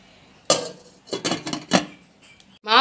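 Metal and glass clinks from a lid handled and set onto a pan cooking banana pancake batter: a sharp clank, then a cluster of lighter taps and rattles, close and clear in a quiet kitchen.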